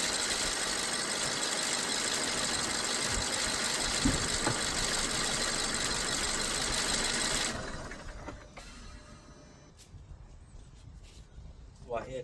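A BMW 1 Series E87 engine with a misfire from faulty coil packs idles with a steady, close mechanical whir, then cuts off partway through, leaving quiet handling noises.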